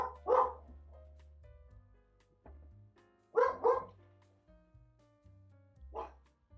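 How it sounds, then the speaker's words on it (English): A dog barks in three short bursts, loud and fairly close, with quiet gaps and a low hum between them. "She's barking at them next door."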